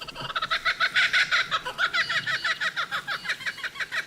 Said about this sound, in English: Laughing kookaburra.